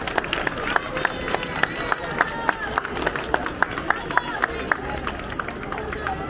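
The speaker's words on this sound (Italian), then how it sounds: "direi di farvi un applauso collettivo" A crowd at an outdoor peace day gathering in a town square claps steadily, with some sharper individual claps standing out over a murmur of voices.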